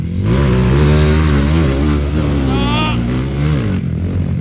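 A KTM motocross motorcycle engine revs loudly and continuously, pitch rising and falling through several throttle blips, with a voice briefly audible in the background.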